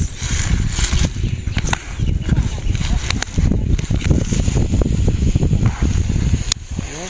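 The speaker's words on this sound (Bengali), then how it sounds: "আজকে বাতাস বেশি" Strong wind buffets the microphone outdoors in a village, a loud, gusting rumble that rises and falls continuously with scattered rustling and knocks.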